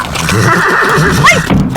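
A ridden horse lets out a loud, close neigh that rises and falls over a steady background rumble, with a brief squeal near the end and no speech.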